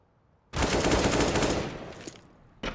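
A burst of rapid automatic AK-47 fire rings out in a Counter-Strike esports match, loud and close for about two seconds, then fades, and a second short burst starts at the very end.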